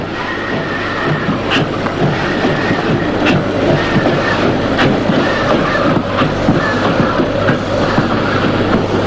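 A class 01 Pacific steam locomotive at Stralsund Depot in East Germany, heard as a steady, loud rumble with rhythmic clickety-clack of wheels and periodic sharper knocks throughout.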